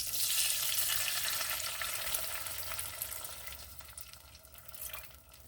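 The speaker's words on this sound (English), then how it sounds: "Start adding my water." Water pours into a pot of spicy seafood chowder, a steady close hiss and splash with sizzling texture that gradually softens over a few seconds, no talking.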